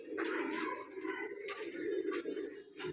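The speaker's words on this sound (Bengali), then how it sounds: "ভাই আজকে আপনার থরের কবুতর দেখাবো দর্শককে" Pigeons cooing close by in a loft, several soft throaty coos rising and falling in overlapping phrases, fairly quiet and without talk.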